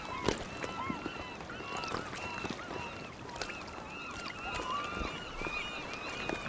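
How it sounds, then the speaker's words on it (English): Seagulls calling in the survival game Sons of the Forest, frequent overlapping cries with sharp clicks and knocks, over a steady coastal background of surf and wind. "And seagulls are feasting on that guy."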